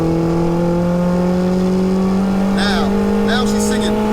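A turbocharged 1-litre Nissan Micra engine revs hard and close, holding a loud, steady, high-pitched drone as it pulls through the gears, with brief chirps and voices over it near the end.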